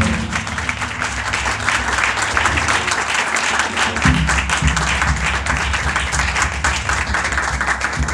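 Warm applause fills a church during a Sunday worship meeting, many hands clapping steadily for several seconds over a low sustained musical tone in the background.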